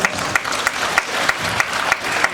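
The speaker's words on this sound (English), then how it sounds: "Round of applause." A small crowd claps steadily, a dense patter of applause with a few sharper claps standing out, no voices.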